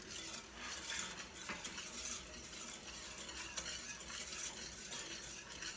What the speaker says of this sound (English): Take out our whisk and start to cook this.